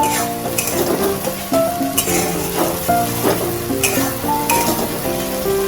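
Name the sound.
spice paste frying in a pan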